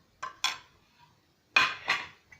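A spoon stirs milk and milk powder in a bowl, two pairs of close clinking, scraping strokes against the bowl separated by a short pause.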